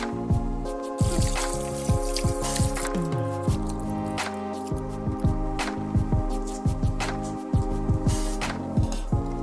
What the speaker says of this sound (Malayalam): ഞാൻ ഈ അരി ഒന്ന് കഴുകി കൊണ്ടുവരാം